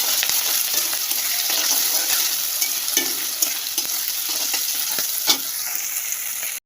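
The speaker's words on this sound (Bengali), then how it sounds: "ক্যাপসিকাম আর মটরশুঁটি একবার ভেজে নিচ্ছি" Loud, steady sizzling of capsicum and peas frying in a pan, with occasional scraping clicks from stirring; no voices.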